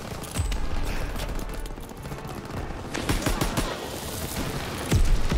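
Gunfire and explosions from an artillery strike rattle through a Call of Duty WWII battle, with dense bursts of shots and booms, a heavy blast near the end, and voices mixed in.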